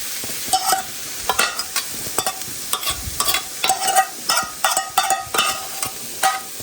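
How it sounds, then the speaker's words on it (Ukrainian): Onions and carrots fry in a pan, a steady sizzle broken by repeated scraping and stirring clatters. "Підсмажили цибульку, тепер додаємо до неї моркву."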